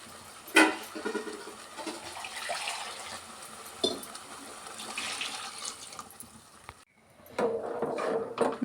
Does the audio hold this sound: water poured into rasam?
yes